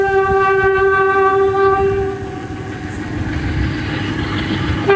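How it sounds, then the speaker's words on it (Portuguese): A FEPASA-era freight train passing near Tupi sounds a loud, sustained horn with several harmonic tones over rolling wheel rumble and clickety-clack, close by, with no talk. "Ele está passando nas intermediações lá de Tupi. Era o cargueiro já na época da FEPASA."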